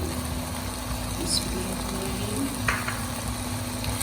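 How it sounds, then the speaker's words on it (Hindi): A spoon stirs mash dal into spices in a hot pan, a soft, steady sizzle with a few faint scraping touches, fairly quiet throughout. "बिल्कुल लाइट हैंड से आपने इसको मिक्स करना है ताकि जो दाल है वो हमारी टूटे ना"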